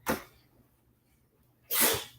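Two sharp bursts a couple of seconds apart, the second a loud, close sneeze, with quiet room tone between.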